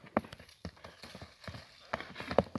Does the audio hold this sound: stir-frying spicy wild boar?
no